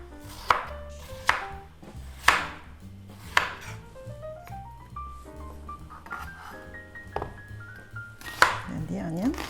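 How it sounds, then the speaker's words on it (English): A kitchen knife chops daikon radish on a cutting board for Korean squid soup, several sharp, separate strikes spaced about a second apart, close and clear over a quiet background. "Next is daikon radish. Just make sure that you cut in a similar size."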